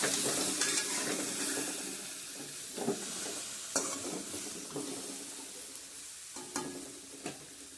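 A bean and potato fry sizzles steadily in a pan while being stirred, with soft scrapes and occasional utensil clinks over the constant frying hiss.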